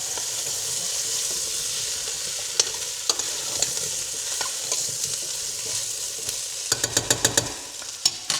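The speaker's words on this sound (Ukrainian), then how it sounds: "Зараз перемішаємо і нехай собі смажиться." Steady hiss of potatoes frying in oil in a pan, with a series of scraping clicks and taps as they are stirred, quickening near the end.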